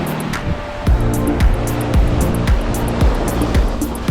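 Ocean surf rolls in at Seven Mile Beach, Grand Cayman, with loud near waves breaking and washing up the sand in a repeating rhythm about every half second, under constant wind-like hiss.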